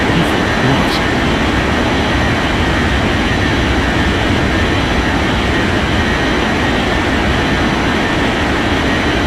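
An Air France airliner taking off from runway 14 right in an air traffic control game: a loud, continuous jet-engine roar that stays constant from start to finish.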